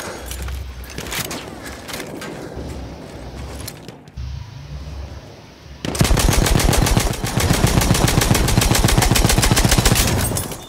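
Gunfire in the Battlefield 1 video game, with scattered shots and mechanical clatter giving way to loud, sustained rapid machine-gun bursts, while a voice briefly speaks.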